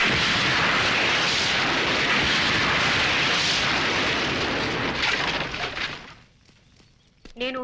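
A Diwali firecracker set off in a comedy film scene: a loud, sustained roaring blast that fills several seconds, then fades out, followed by a short final burst.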